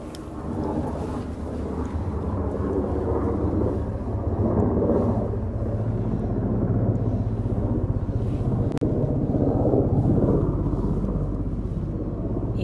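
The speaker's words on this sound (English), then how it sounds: "Y'all hear them helicopters in the distance?" A distant, low rumbling drone of helicopters over an Oregon wildfire rises and falls in waves, with faint chopping texture, steady and far off with no nearby talk.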